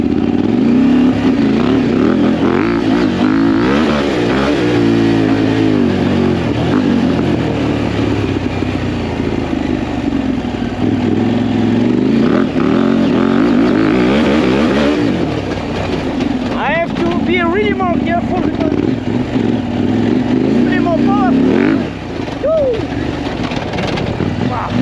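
A KTM 890 Adventure R motorcycle lapping in rally mode, its engine droning loud and continuous with rising and falling revs as the bike accelerates and shifts, heavy wind rush throughout and a rider's voice briefly heard over it.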